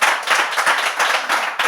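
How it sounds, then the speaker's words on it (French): Audience applause at a French Bible quiz show, a dense burst of clapping from many hands that stays loud and steady for its whole length before briefly dipping near the end. "on peut applaudir"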